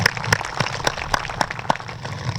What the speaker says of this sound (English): So a round of applause for all those folks,